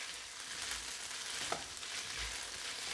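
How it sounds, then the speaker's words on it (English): Spaetzle sizzles steadily while being tossed in a pan of hot bacon fat, a soft continuous frying hiss with one small clink midway, faint and without voices. "get the Spaetzle all tossed up and coated with that beautiful bacon flavor"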